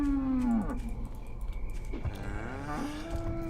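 Cows in the video game The Cows Are Watching let out long, droning moos, a drawn-out low call followed by a second falling moo over a steady background hum.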